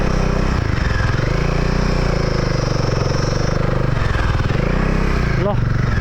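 Motorcycle on a cold mountain road, its engine a loud steady drone throughout with pitch rising and falling, a voice talking over it.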